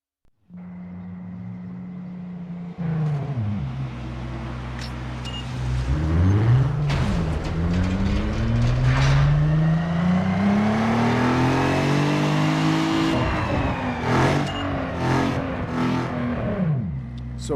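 Video-game car engine from Need for Speed Underground 2 revving hard on a dyno, climbing steadily through the gears with rising whine and brief shift dips, loud and continuous with no talk.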